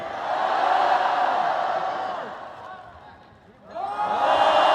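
A large crowd roars with cheers and screams, fading into a brief lull before surging loudly again.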